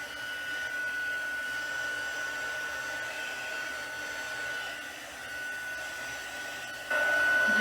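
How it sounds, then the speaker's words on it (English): A heat embossing tool blows hot air over a stamped craft piece in a steady, close whooshing hiss with a faint high whine, shifting slightly as it moves around. "now we're going to bring back the heat tool, and I'm going to try not to get it too hot this time"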